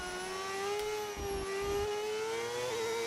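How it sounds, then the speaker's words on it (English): Modded V8 engine on a car in the F1 25 racing game, a steady, sustained whining drone with a constant pitch and a brief dip. "I have turned on a mod that adds a V8 engine."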